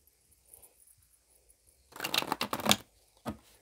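A vintage tarot deck riffled and shuffled in a couple of quick papery bursts, fairly close and alone, with near silence before and after.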